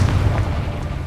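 A single deep, booming blast from the Confringo fire-blast spell in Hogwarts Legacy, loud and close, lasting about a second with no talking.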